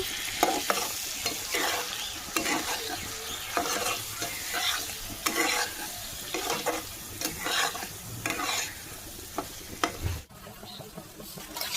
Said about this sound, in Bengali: মশলাটা কষিয়ে নেব চর্বিগুলো ভালোভাবে কষিয়ে নেব